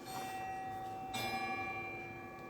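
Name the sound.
house bell chiming seven o'clock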